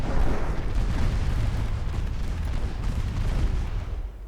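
Torpedo explosions rumble in a naval video game, a dense, sustained low boom rolling continuously for about four seconds at steady loudness before tapering off at the end.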